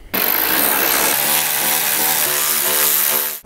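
Power tool whirring steadily as it backs out 10 mm headlight bolts on a Toyota Tundra, a loud continuous drone with a shifting pitch that stops abruptly at the end.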